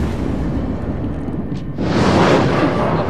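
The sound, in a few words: battleship gun salvo in video game World of Warships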